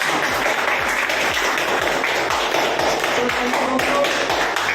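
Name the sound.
audience applause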